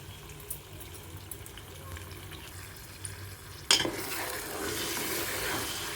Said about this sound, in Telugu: మనం ఆయిల్లో ఫ్రై చేస్తాం